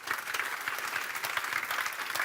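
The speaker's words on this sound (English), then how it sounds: "Could we give a very warm round of applause" An audience at an energy-grid conference gives a warm round of applause for a keynote speaker, a steady, moderately loud wash of clapping heard alone and cut off after a couple of seconds.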